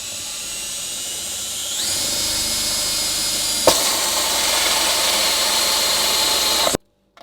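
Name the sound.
drill boring holes in motorcycle custom panel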